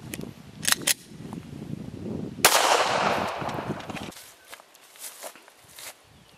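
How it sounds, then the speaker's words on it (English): A 9mm 147 grain flat nose hand-loaded bullet is fired into an apple, giving a single sharp, loud gunshot followed by a bright burst of noise and debris that fades away, with a few clicks and handling sounds around it. "we got 147 grain hand loads, 9mm. They're flat nose bullets. Just gonna do one, see what it does to an apple."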